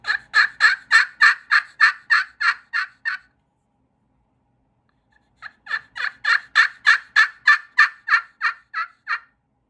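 Two loud, close series of rhythmic yelps on a wild turkey call, about a dozen evenly spaced notes each, separated by a few seconds of silence.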